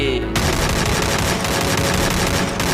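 Gunfire rattles nonstop in a shooting video game: a loud, dense stream of rapid automatic shots and blasts kicks in after a brief quieter moment and pounds on close up.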